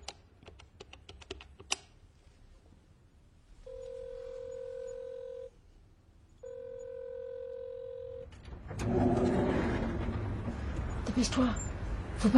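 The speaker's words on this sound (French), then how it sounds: "Elle a pris le téléphone 15 secondes après avoir claqué la porte." A telephone number is dialed, heard as a handful of quick tone beeps after some clicks, then two long steady tones with a short gap, followed by a burst of rushing noise.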